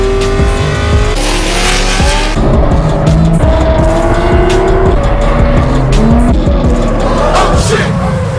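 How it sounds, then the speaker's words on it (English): Cars drift at Homestead-Miami Speedway, loud engines revving and howling while tires squeal and skid in long sweeping screeches, close and continuous throughout. "Look behind me, there's drifting!"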